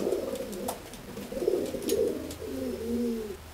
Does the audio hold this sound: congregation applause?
no